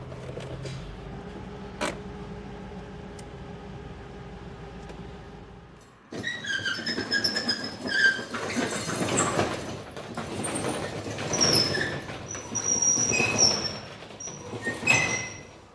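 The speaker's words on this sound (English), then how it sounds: "I just sprayed that door. I don't know why it's got to be so loud." After a quiet stretch with a lone tap, a door that had just been sprayed with lubricant swings with loud, drawn-out creaks and squeals for about ten seconds, close and without talk.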